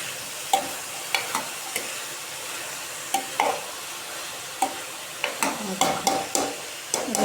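Bottle gourd curry stirred in a pot as milk goes in, giving a soft sizzle under scattered scraping clicks of a spoon against the metal, steady and close with no talk.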